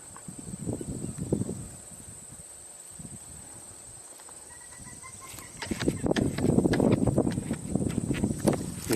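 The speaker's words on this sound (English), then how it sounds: "You're hearing common gallinules." Common gallinules call outdoors during a birding tour, with bursts of rapid clucking, cackling notes that swell louder and busier in the second half over a constant thin insect buzz.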